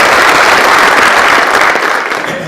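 A crowd at a nuclear power plant rally applauds loudly and steadily, the clapping filling the space before easing off slightly toward the end.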